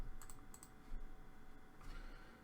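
Fairly quiet clicks of a computer keyboard while entering text in CAD software, a few short bursts of keystrokes separated by brief pauses, heard close against a steady low hum.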